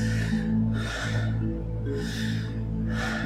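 Slow, deliberate deep breaths, three or four rhythmic inhale and exhale cycles close to the microphone, heard alone without talk.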